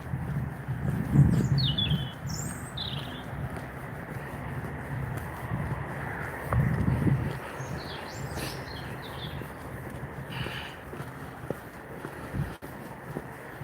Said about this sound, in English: Birds are up.